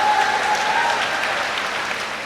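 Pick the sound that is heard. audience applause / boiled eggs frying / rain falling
audience applause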